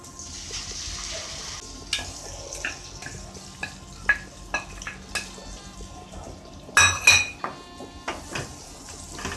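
Ground masala stirred into a pan on low gas while preparing mirch makhani: repeated scraping and clinking of a utensil against the pan, with a louder cluster of metallic knocks midway, over a faint low sizzle.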